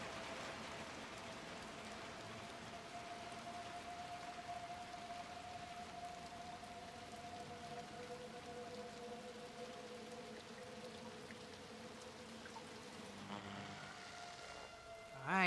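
Soft, steady rainfall in the video game Little Nightmares II hisses continuously at low volume, with a faint tonal hum underneath and a brief shift near the end.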